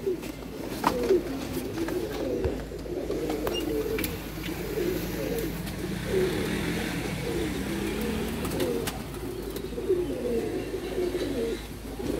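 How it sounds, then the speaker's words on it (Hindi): Homing pigeons coo softly around a loft as they return from a flight, a low, steady murmur of overlapping coos over faint outdoor background noise. "ये दूसरा कबूतर आ गया"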